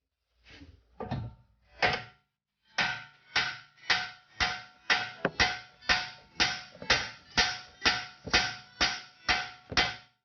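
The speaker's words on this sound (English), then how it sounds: "I hit it with a hammer a few times on this side" Repeated sharp metallic hammer blows strike a CV joint on a 2003 BMW 325xi E46 at a steady rhythm, about fifteen hits in quick succession after a few irregular knocks, loud and close.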